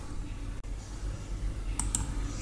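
Two quick, crisp computer mouse clicks sound close together while BIOS settings are changed on an ASUS motherboard PC, set against a steady low background hum with no talking.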